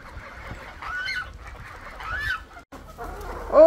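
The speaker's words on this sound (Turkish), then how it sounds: "Bakayım tavuklar ne yapıyor." Chickens in a coop clucking and squawking close by, a busy run of overlapping calls with a louder cry at the end.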